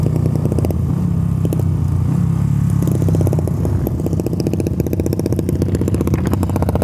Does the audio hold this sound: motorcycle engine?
yes